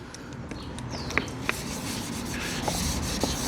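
Sanding a car headlight lens to smooth its surface before spraying, a steady close scratchy rubbing with a few sharper ticks scattered through.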